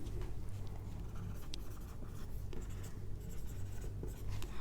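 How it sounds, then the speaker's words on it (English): Writing during a physics lecture, steady close scratching of a pen or marker across a surface that continues for several seconds at a quiet level, with no speech. "Let's write it down."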